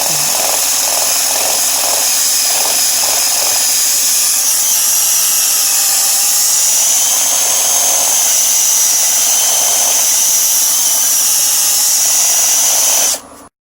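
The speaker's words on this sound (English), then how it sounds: "now's a good time to stop the lathe" A steady machine whine and hiss of a wood lathe spinning a natural edge bowl, with sandpaper rasping against the turning piece, running continuously before cutting off abruptly at the end.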